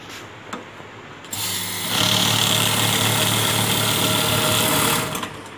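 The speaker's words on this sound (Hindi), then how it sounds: "बटन यहाँ पे ऑन कर दिया सर, ये ऑन ऑफ के बटन है, इसको बंडल नोट काउंटिंग मशीन बोलते हैं सर।" After a quiet moment, a Turbo GX bundle note counting machine switches on, revs up and runs with a loud, steady high-pitched whir for a few seconds before winding down.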